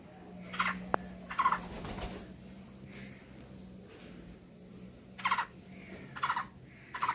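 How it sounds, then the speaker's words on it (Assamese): Two baby bird chicks, fallen with a broken areca palm tree, give faint, short, high chirping calls scattered in small clusters over a steady background hiss and low hum. "চাওকচোন চৰাই পোৱালি দুটা"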